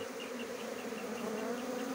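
Large swarm of Italian honey bees buzzing around honey-filled combs, a dense steady drone that is close and continuous, with no speech.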